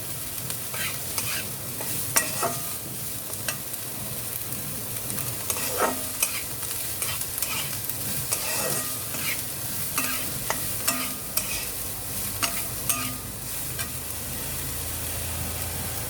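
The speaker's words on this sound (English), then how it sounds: "Now let us add the capsicum." Capsicum stir-frying in a pan for vegetable fried rice, a steady broadband sizzle broken by frequent sharp scrapes and clatters of the spatula against the pan, close and fairly loud throughout with no talking.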